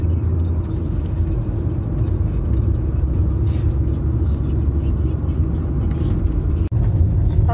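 Steady low rumble of a car driving on the road, heard from inside the cabin as a constant, loud engine and road drone without pause.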